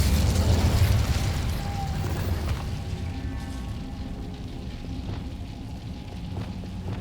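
Incendio fire spell in the Hogwarts Legacy game, a loud close fiery blast with a roaring burst up front that tails off into a sustained rumbling crackle and scattered pops.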